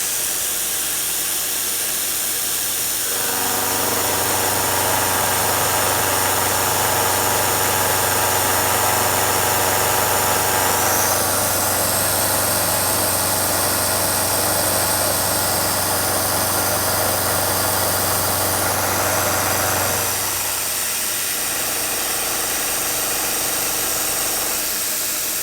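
A machine's feed starts on an 8-foot steel bar with an air blast at about 60 PSI aimed at the cut, rising into a loud, steady mechanical drone and hiss that holds for about seventeen seconds, then winds down, with no voices.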